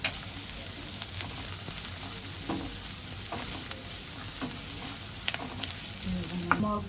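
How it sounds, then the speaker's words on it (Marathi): Onion with ginger garlic paste fries on a low flame, giving a continuous soft sizzle broken by scattered clicks and scrapes as it is stirred. "मंद आचेवर कांदा शिजवूया"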